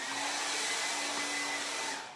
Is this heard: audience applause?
no